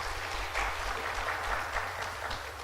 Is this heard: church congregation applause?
yes